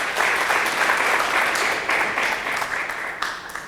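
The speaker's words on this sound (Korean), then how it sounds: "저희 미국 사무소 대표를 맡고 있는 이현수 변호사님을 박수로 맞아주시기 바랍니다." An audience at a seminar on US business law applauds to welcome a lawyer to the stage, a dense, steady burst of clapping held at an even level for several seconds.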